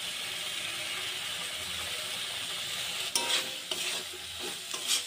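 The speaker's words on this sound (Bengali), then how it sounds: "মশলার সাথে নারকেলটা ভালোভাবে কষিয়ে নিয়েছি।" Grated fresh coconut fried with spices in a pan for a jackfruit dish, with a continuous sizzle and then scraping spatula strokes toward the end.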